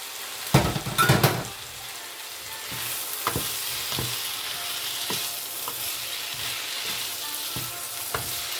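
Chicken pieces sizzle and fry steadily in a hot pan with garlic, with a few louder clatters and stirring scrapes near the start and occasional utensil taps throughout.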